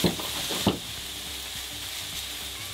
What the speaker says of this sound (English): Next, you add the onion.